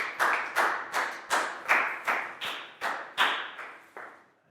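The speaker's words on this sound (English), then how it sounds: "High five and a big round of applause for Lakau." Applause in a primary-school English classroom: about ten loud, evenly spaced claps in a steady rhythm, close by and with no talk over them.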